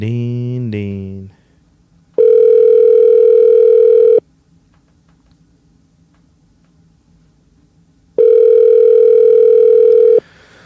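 A telephone dial tone sounds twice while a call is placed, two loud steady hums of about two seconds each with a quiet gap between, after a brief voice at the start.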